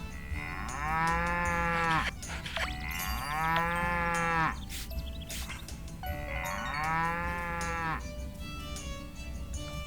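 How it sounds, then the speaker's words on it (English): Cattle in the Story of Seasons: Pioneers of Olive Town farming game moo as they leave the cow barn, three long, loud, drawn-out calls in a steady sequence with brief gaps between them, set against a soft background music bed. "Trying to bring out all of the animals. Cow barn. Let's get them coming out."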